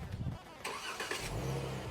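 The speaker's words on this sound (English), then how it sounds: "We got the remote engine start." A 2022 Dodge Challenger GT fires up by remote start: a brief starter crank, then the engine catches with a rising burst and settles into a steady rumbling idle, nearby, with some talk over the start.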